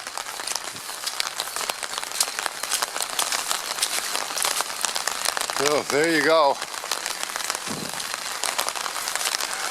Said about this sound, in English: it's not going to stop raining for a couple of days